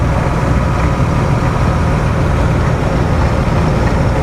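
A 2004 Nissan Xterra SUV engine idles steadily, a constant low rumble and hum with no change in pitch, close and fairly loud throughout.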